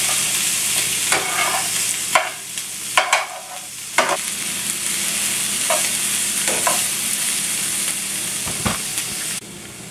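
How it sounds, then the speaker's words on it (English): Sliced mushrooms and onions sizzling in a pan over a low flame while being stirred and folded, a steady close frying hiss broken by scraping utensil strokes, with no talking. "I just added my mushrooms and folding those into the rest of the veggies."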